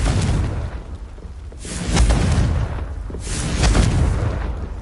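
Magical Confringo blast spells in Hogwarts Legacy go off as a series of deep, rumbling booms with swelling explosive roars, one after another at close range.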